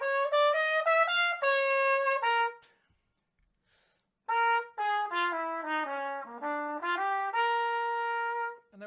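Jazz improvisation phrases built on a major pentatonic scale with a flat third, played as a clear melodic instrumental line in two runs separated by a short silence, with no talking.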